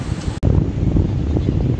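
Steady breezy seaside wind rushing over the microphone in the early morning, a broad rumbling whoosh with a brief dropout near the start, no talking.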